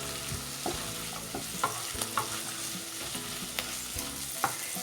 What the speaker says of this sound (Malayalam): ഇനി ഇതും 2 മിനിറ്റ് ഒന്ന് സോട്ട് ചെയ്തെടുക്കാം